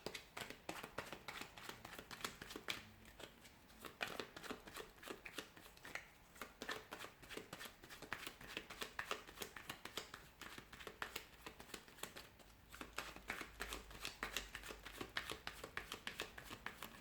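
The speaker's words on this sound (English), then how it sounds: "So we'll give the cards a shuffle and we'll begin." Tarot cards shuffled by hand at close range, quiet crisp riffles and flicks repeating in quick bursts with short pauses between, no talking.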